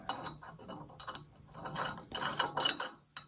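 Packing nut threading onto the valve stem of a Coleman 228H lantern during a rebuild, a close, quiet run of small metallic clicking and grinding as the dimpled nut turns, in uneven bursts.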